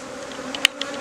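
Honeybees buzz around a beehive as an old colony is combined with a queenless box set on top. A steady, close hum runs throughout, with a couple of light knocks.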